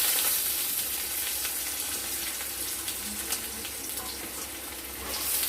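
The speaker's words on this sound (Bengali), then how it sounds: "সামান্য তেল দিয়ে আমরা দিয়ে দেবো আলুগুলো" Potatoes frying in a little oil in a pan, a steady soft sizzle with faint crackles, even and unbroken, heard alone.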